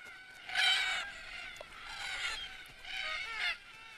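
Red-tailed black cockatoos call at an Australian watering hole at sunset, giving three harsh, grating screeches in steady succession, each lasting about half a second, over quiet surroundings.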